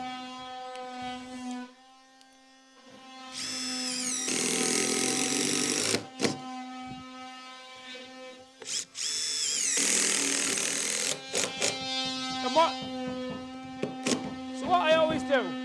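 Power tool cutting during a garden room build, loud bursts of harsh grinding and cutting separated by brief pauses over a steady motor hum, with occasional short sharp clatters.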